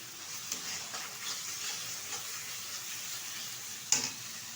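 Spices with Kashmiri chili powder frying in a pan for goat-fat ghugni, a steady soft sizzle with scraping stirs throughout and one sharper clack of the spoon near the end.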